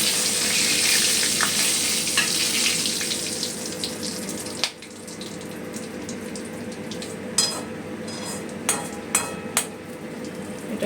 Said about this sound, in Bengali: আলু ভাজার পর এবারে দিয়ে দিচ্ছি গোটা গরম মশলা।